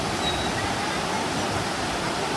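Water pouring over Dunn's River Falls in Jamaica, a steady broadband rush of cascading water that stays loud and even throughout with no clear breaks.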